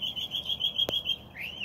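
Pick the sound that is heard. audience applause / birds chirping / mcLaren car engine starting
birds chirping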